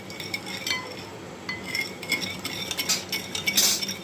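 A spoon stirs sugar, yeast and salt into milk in a bowl, giving light repeated metallic clinks and scrapes in an uneven rhythm, close and fairly quiet, with no speech.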